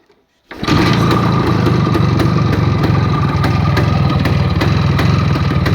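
A motorcycle engine starts and settles into a steady, loud idle with a fast, even putter, close by and alone.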